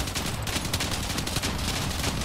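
Rapid automatic gunfire from the M-37 Piercer weapon in the vehicle combat game Crossout, a dense, continuous barrage of loud, close shots with explosive impacts, heard alone without talk.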